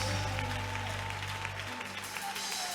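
Church congregation clapping during a sermon, a continuous patter of many hands over a low sustained organ or keyboard tone that drops out partway through.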